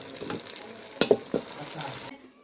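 Whole spices and cashews crackle in hot oil for a tempering, a soft steady sizzle with a few sharp pops and clinks of a spoon against the pan before it cuts off.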